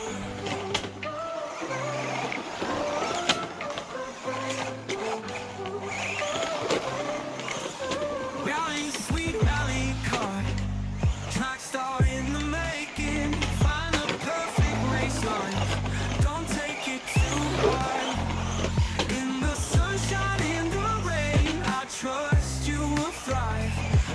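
A San Yao 1/12-scale RC rally car with oil shocks drives nonstop over a rough surface, a busy clattering, rattling whir of the small motor and wheels under steady background music.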